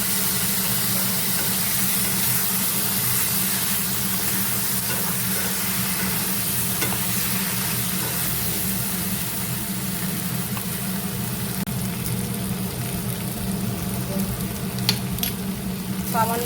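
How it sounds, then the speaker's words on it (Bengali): Vegetables with carrot fry in a pan as a ground spice paste is stirred in, a steady loud sizzle with scraping stir strokes and occasional clinks over sixteen seconds. "সবজিগুলো ভাজা ভাজা হয়ে গিয়েছে, এবার দিয়ে দিচ্ছি মশলাটা যে পেস্ট করে রেখেছিলাম"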